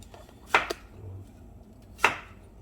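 A knife slices through a pear on a cutting board for a Korean braised short rib marinade, two sharp chopping cuts about a second and a half apart, close and clear with no talking.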